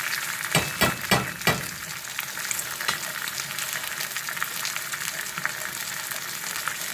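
Homemade ghee, made from unsalted butter, sizzling and frying in a hot pan with a steady, loud crackle, broken early by a few sharp clatters.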